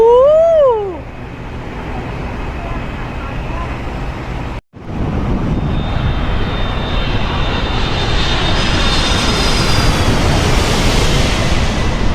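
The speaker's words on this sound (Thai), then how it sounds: "เห็นเครื่องบินกำลังจะขึ้นไหมคะ" An airplane's engines roar close by as it prepares to take off, a loud broadband rush with a thin rising whine that keeps building. A brief warbling tone sounds at the very start.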